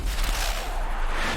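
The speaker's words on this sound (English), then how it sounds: "Explosion in the background." A dull, booming explosion from Metal Gear Solid: The Twin Snakes rumbles in the background, a brief, loud, roaring burst with heavy low-end that stays thick across the whole moment.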